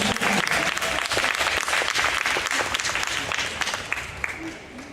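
Sustained audience applause fills the room at an awards ceremony for a Tartu competition final, dense clapping throughout.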